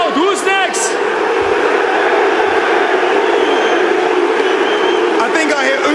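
An arena crowd at a combat-sports event roars and chants continuously, a dense, loud wall of voices with whoops and shouts rising through it; a few individual calls stand out near the start and end.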